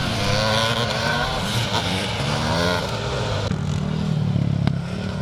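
Classic motocross motorcycles race at Thornhill, Scotland, with engines revving and swooping in pitch as bikes pass at middle distance, a loud, continuous roar with some clatter near the end.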